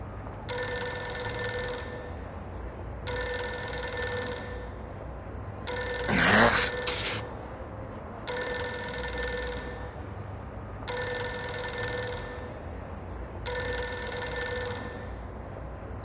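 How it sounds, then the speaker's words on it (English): A telephone rings in the video game Reverse: 1999, repeating bursts of bright electronic trilling separated by short silent gaps over about sixteen seconds, with a louder burst of noise mid-sequence. "Pick up the phone already."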